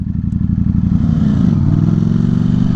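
A Ducati Streetfighter V4 motorcycle engine, heard close and loud, drones and shifts, with a blip in revs and a changing pitch near the middle. No one talks.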